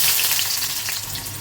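Onions hit hot oil in a wok already used for frying potatoes and spine gourd, giving a loud, steady sizzle with a dense crackle that fades slightly over the short stretch.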